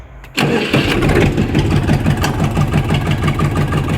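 A Kentavr 244 tractor engine cranks and catches almost instantly, then settles into a loud, close, steady chugging idle with a rhythmic diesel knock.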